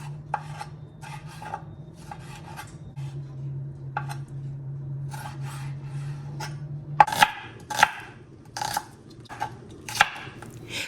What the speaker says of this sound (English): I'll cut the skin into nice thin sizes, and I'll go on with my onions and other vegetables